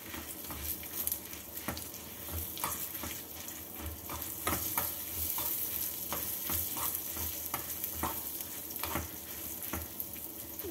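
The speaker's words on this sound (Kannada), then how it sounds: "ಒಂದು ಎರಡು ಸ್ಪೂನಷ್ಟು ಕಡಲೆಬೇಳೆ ಇದನ್ನು ಸೇರಿಸಿ ಚೆನ್ನಾಗಿ ಹುರ್ಕೊಳ್ಳೋಣ" Peppercorns and chana dal dry roast in a pan for a wedding-style vegetable kootu, a soft, steady crackle with frequent light stirring scrapes and rattles, fairly faint throughout.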